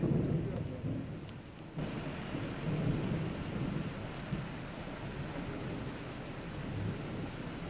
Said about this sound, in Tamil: அதிகாலை 2 மணியளவில் இடி முழக்கத்துடன் தொடங்கிய கனமழை 4 மணி நேரத்துக்கு மேலாக நீடித்ததால் சாலைகள் வெள்ளக்காடாக மாறின.